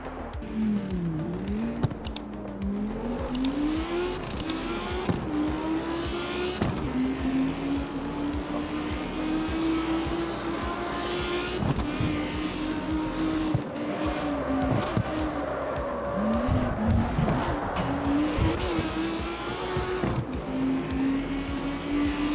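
A race car in the CarX Street driving game revs and shifts continuously, its engine note rising and falling through gear changes, with occasional tire squeal, loud and close throughout.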